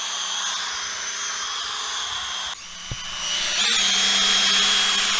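A power polisher works the paint of a BMW E30, making a steady high whine that dips briefly and then settles at a louder, brighter pitch.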